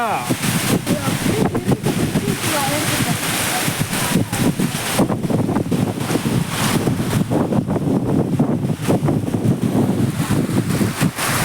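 Strong wind from a storm with rain in Salem buffets the microphone in a constant loud roar, with gusty rumbling throughout and voices faintly underneath.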